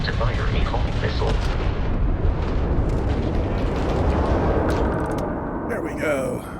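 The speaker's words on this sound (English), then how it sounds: "If you can keep the enemy ship centered on the HUD, we can lock in to fire a homing missile." Homing missile explosion in a space combat video game: a loud, sustained rumbling blast with crackling bursts, continuing for several seconds before easing into a fainter electronic tail.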